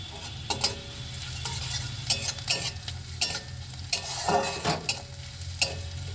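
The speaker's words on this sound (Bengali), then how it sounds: "পেঁয়াজ কুচিগুলো ভালো করে ভেজে নেব।" Chopped onions fry in a pan with a constant crackling sizzle, punctuated by rhythmic scraping strokes of a spoon stirring them, close and clear with no voices.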